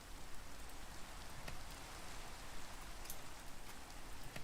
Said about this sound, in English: We got rain today.